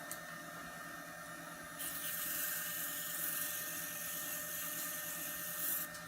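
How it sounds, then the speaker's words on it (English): Sandpaper wrapped on a popsicle stick rubs a small turned brush handle on a lathe, a steady hiss of sanding over the motor's hum that rises and brightens partway through and holds close and fairly loud. "I use popsicle sticks a lot for sanding on small stuff like this."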